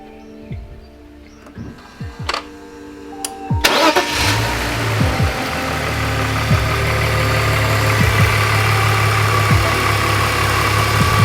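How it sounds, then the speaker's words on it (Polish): A BMW engine fresh on new oil cranks after a few faint clicks and knocks, catches and fires, then holds a rough, steady idle up close, loud and continuous with no voices. "Dobrze, olej nowy zalany, odpalamy. Pierwszy raz po na nowym oleju."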